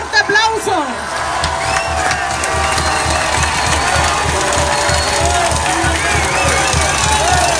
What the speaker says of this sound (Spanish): al compañero Andrés Manuel López Obrador, a quien recibimos con un fuerte aplauso.